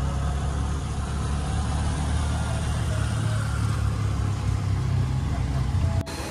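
Auto-rickshaw engine running during a ride through Mumbai traffic, a steady low rumble with road noise that continues unbroken before cutting off abruptly near the end.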